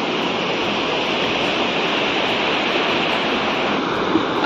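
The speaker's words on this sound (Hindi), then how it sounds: "यहाँ पे पानी की आवाज़ सुन के काफ़ी अच्छा सा लग रहा है।" Water rushes steadily in a river beside green mountain fields, making a broad, even, constant roar that stays close and loud with no pauses and no voices.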